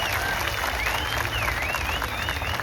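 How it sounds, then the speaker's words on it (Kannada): A farmers' rally crowd gives loud, dense applause, a continuous wash of clapping that stays even throughout, with a few voices and whistles mixed in. "ಆ ಹಿರಿಯ ಮುಖಂಡರಿಗೆ ಜೋರಾದ ಚಪ್ಪಾಳೆ ಮೂಲಕ ಒಂದು ಧನ್ಯವಾದ ಸಲ್ಲಿಸ್ತಾರೆ."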